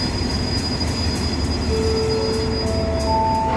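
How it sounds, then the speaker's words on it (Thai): Ordinary passenger train 456 from Yala to Nakhon Si Thammarat stands at platform 2 of Hat Yai Junction station in the morning, with a steady close rail rumble and thin metallic wheel squeals rising in the last couple of seconds. "ขบวนรถธรรมดาที่ 456ยะลา นครศรีธรรมราช จอด ใน ชานชลาที่ 2"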